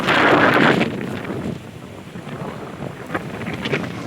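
Strong wind buffets the microphone at a hilltop seaside spot above a private resort in San Nicolas, Batangas, loudest in a heavy gust at the start, then a steadier rushing roar with small bursts.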